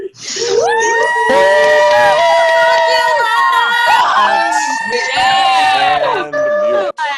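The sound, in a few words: graduates and audience cheering on unmuted Zoom call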